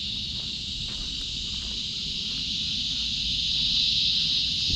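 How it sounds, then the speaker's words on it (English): A loud, continuous high-pitched buzz of cicadas fills the air at a junkyard, steady and swelling slightly, over a low rumbling background. "Those cicadas are super loud."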